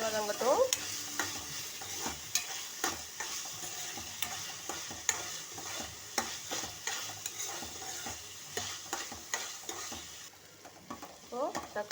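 Tomatoes sautéing with a little salt in a pan for kovakkai kulambu, a vegetable curry, give a soft sizzle under frequent close scraping and stirring strokes from a spoon.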